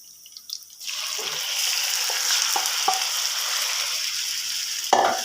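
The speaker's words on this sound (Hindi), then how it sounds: "और अब मैं इसमें ऐड करूंगा चिकन, जो कि मैंने मैरिनेट किया था।" Marinated chicken for restaurant-style chow mein hits a hot pan with a loud, steady sizzle, broken by a few clinks and scrapes of stirring.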